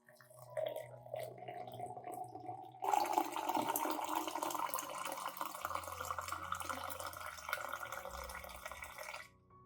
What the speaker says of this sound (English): Then add 500 milliliters of boiling water.